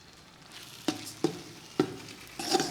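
Moong dal halwa being stirred in a pan after sugar is added: a few distinct scraping, sticky sizzling strokes at an uneven pace over a soft background hiss, close and fairly quiet.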